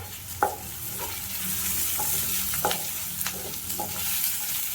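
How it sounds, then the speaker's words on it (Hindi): Food fried on a high flame sizzles continuously while a spoon scrapes the pan in repeated, irregular strokes, close and fairly loud with no speech. "तो हाई फ्लेम पे पकाने के बाद इसकी क्रंच वैसे ही बनी रहेगी।"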